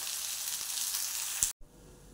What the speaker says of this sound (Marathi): आणि टोमॅटो पण चांगलं परतून घेऊ.